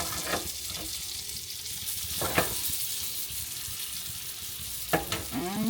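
Sausages fry slowly in a pan with margarine, a steady close crackling sizzle running throughout, broken by a few brief sharper pops and clinks.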